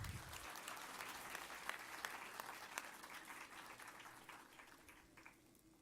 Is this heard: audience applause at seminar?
yes